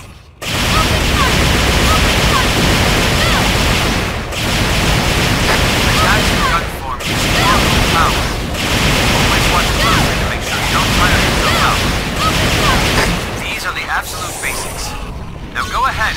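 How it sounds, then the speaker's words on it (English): Rapid ranged gunfire from a God Arc switched to gun form in God Eater 2: Rage Burst, a loud dense barrage of repeated shots with brief pauses, mixed with game music and effects. "Transform your arc and fire at those simulacrum."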